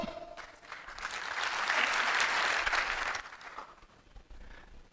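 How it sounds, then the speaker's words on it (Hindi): Live audience at a Hindi motivational talk on network marketing claps on cue, a broad swell of applause building to a loud peak mid-clip and then thinning out, with no voice over it. "जब भी मैं हेलो बोलूंगा आप एक बार ताली बजाएंगे"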